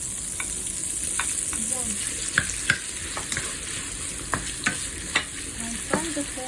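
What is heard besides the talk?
pork being sautéed in a frying pan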